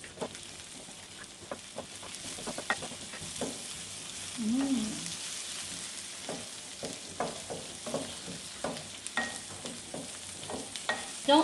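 Garlic and chili sizzle steadily in a pan over medium heat, with repeated scraping stir strokes close by and no talk.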